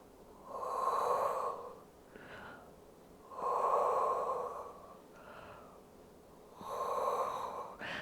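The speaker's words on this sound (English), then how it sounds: "3 deep breaths there" Deep, slow breaths taken while holding a standing Pilates position, three long inhales or exhales spaced a few seconds apart, close and fairly soft with quieter breaths between them.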